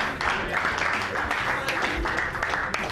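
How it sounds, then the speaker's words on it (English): Team applauding in a locker room after an MLS win, a short burst of clapping from a group of players in a small room, with shouts and voices mixed in. "Everyone give him a round of applause"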